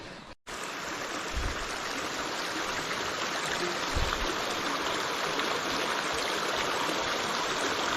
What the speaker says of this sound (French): on arrive à la rivière